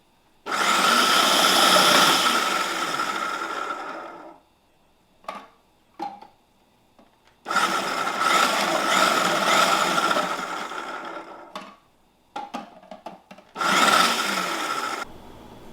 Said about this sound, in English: we're going to handle our carrots the same way in the food processor